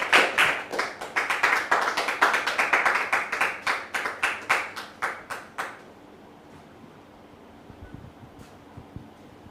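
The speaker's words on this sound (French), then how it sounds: "Merci de la recevoir sous vos applaudissements," A studio audience claps in a rhythmic, sharp pattern for about six seconds, then stops abruptly, leaving a quiet room with faint stray sounds.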